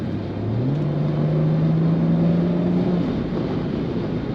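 A 2005 Chrysler Crossfire SRT-6 convertible on kickdown: the engine note climbs steadily as the car accelerates hard, loud and close inside the cabin, with the revs rising for about three seconds before easing off.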